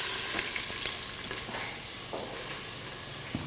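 Onions hit hot oil in a pot, producing a steady, dense crackling sizzle with a few faint scrapes, loud at first and easing slightly toward the end.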